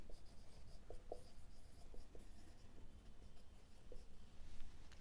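Pen scratching steadily across paper while accounting entries for a share issue are written by hand, close and continuous, with small taps and strokes in an even working rhythm.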